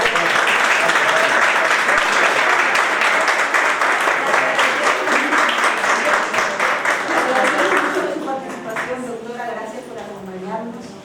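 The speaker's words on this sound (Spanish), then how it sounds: "Le vamos a dar una aplauso a la doctora porque tiene que retirarse de su lugar." Audience at a panel discussion on a law applauding a departing female doctor, sustained, fairly close clapping for about eight seconds that then tapers off as a person begins speaking.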